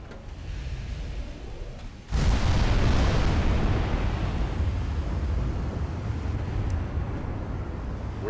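Heavy naval shell impacts on a battleship in the naval strategy game Ultimate Admiral Dreadnoughts: a sudden loud boom about two seconds in, then a sustained roaring rumble of fire and explosions that carries on to the end.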